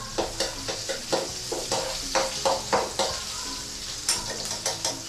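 Garlic fries in a little oil with ginger in a pan, stirred with a spatula. Rhythmic, close scraping strokes sound over a continuous sizzle.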